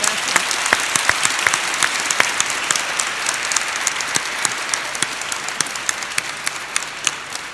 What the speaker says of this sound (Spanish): eso merece, yo creo, un aplauso